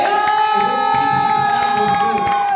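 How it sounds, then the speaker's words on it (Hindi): A crowd at a speech event applauds and cheers for army commanders, a loud, steady wash of clapping and shouting that continues throughout. "मैं जोरदार तालियां चाहता हूं आर्मी के सभी कमांडर्स के लिए"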